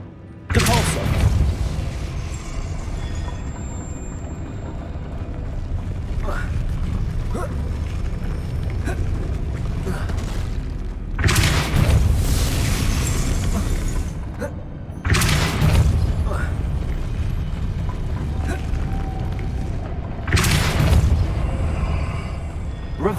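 Depulso force-push spell blasts in the Hogwarts Legacy video game, booming bursts repeating about four times, each a loud, sharp whoosh-impact over a steady rumbling game background.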